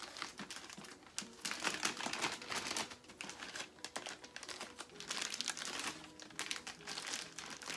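Plastic wrapping is peeled and torn off a signed limited-edition hardcover book, giving quiet, continuous crinkling and crackling that comes in irregular bursts.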